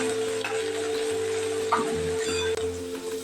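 Onions sautéing with curry leaves in a pan for a matki curry, a steady sizzle over a constant low hum, with one brief stirring scrape partway through.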